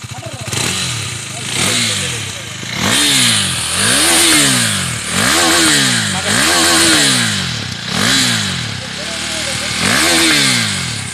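A 2017 KTM Duke 390 motorcycle revs its engine in a series of sharp, rising and falling blips, loud and close, with a rough exhaust note between pulls and voices in the background.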